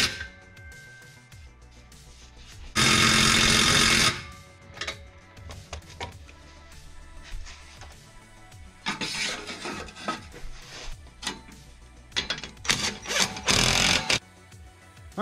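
Bolts on an aftermarket muffler under a 2016 RAM 1500 are tightened with a 17 mm deep socket, giving bursts of loud rapid ratcheting and metallic rasping separated by quieter clinks and handling noise.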